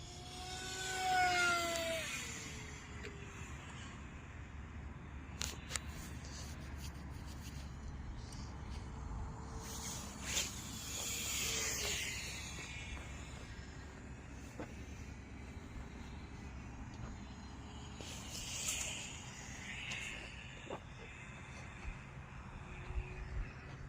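An RC V-tail speed plane on 4-cell power flies fast overhead, its motor a continuous distant whine that swells and fades in passes over steady outdoor background noise.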